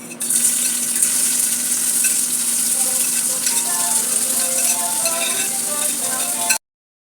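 Herbs frying in oil in a pan, a loud continuous sizzle and crackle with faint stirring scrapes, holding steady for several seconds before cutting off abruptly.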